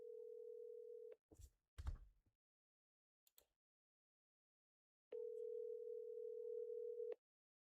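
Ringback tone of an outgoing phone call, two long steady buzzing rings separated by a silence broken by brief rustling handling noises, heard close and clear.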